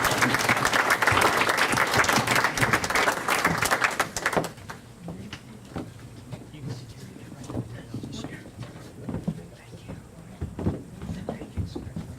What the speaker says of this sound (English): Please give them a round of applause to all of our volunteers that have gone above and beyond.